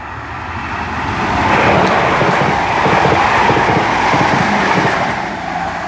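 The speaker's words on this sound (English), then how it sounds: "Right, passing through now, we've got a service to London Waterloo from Weymouth." A Class 444 electric train, unit 444-025, running from Weymouth to London Waterloo, passes through Beaulieu Road station with a swelling roar of wheels on rail that peaks and holds for several seconds before easing off.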